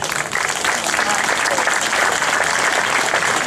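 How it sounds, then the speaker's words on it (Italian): Audience applause at a final award ceremony, dense continuous clapping close and loud with faint crowd murmur underneath. "Bell'applauso."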